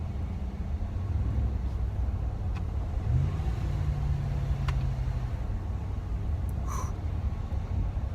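Steady low rumble of a RAM pickup truck's engine and exhaust while driving on the road, constant and close from inside the cab, with a slight rise in pitch midway and no talking.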